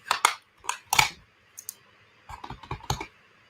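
A craft stamp pressed through paper to punch out sprig shapes, making a quick series of sharp close clicks and snaps in short bursts, with no talk.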